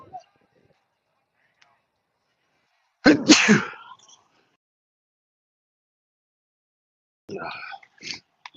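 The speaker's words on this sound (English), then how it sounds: "Sorry for sneezing in your ear." At a junior varsity baseball game, a single sharp sneeze bursts out of near silence, followed a few seconds later by a short, quieter voice.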